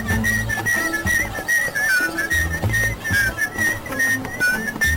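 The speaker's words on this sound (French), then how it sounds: "Écoute. Il siffle." A man whistles a wavering, bouncy tune continuously, with low clopping and rumbling sounds underneath.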